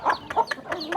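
Chickens cluck loudly and close by in quick, separate bursts, roughly five calls in a second, with no other sound competing.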